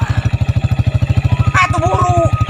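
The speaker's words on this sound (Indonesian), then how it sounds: "Siap mesin si Alek" A motorcycle engine idles with a fast, regular thumping putter, close and loud, while a voice briefly speaks over it midway.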